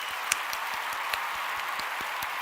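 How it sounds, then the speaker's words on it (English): A small group gives a round of applause on a podcast, a thin, steady patter of claps with a few sharper individual hits standing out. "can we get a round of applause for Stu on that?"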